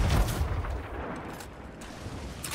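Ship cannon fire in the pirate video game Sea of Thieves, a deep boom at the start trailing into a rumbling, noisy decay, with no talk over it.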